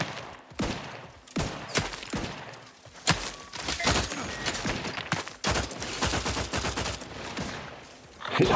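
Gunfire in the video game Outer Worlds 2, delivered as sharp bursts and volleys of shots in a close, loud firefight with thuds and impacts between them.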